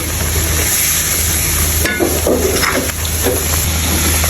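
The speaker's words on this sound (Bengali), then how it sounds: "এখন তেলের মধ্যে আমরা মশলাটাকে দিয়ে দিচ্ছি। সামান্য দিয়ে একটু তেজপাতা দিয়ে দিলাম। এখন মশলাটাকে ভালো করে কষাই নেব।" Spices and bay leaf fry in hot oil while being stirred, making a loud, continuous sizzle with brief scraping and clinking from the stirring.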